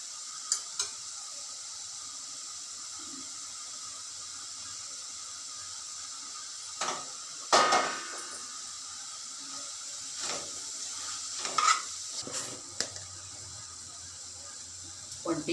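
Chopped fenugreek leaves sizzle in a hot pan with a steady frying hiss, while a spoon scrapes and stirs in occasional louder bursts, close up.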